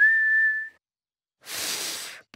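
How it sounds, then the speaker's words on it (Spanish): A cartoon pig whistles through pursed lips, one steady clear tone lasting under a second, followed after a pause by a breathy airy blow with no tone. "Estoy silbando."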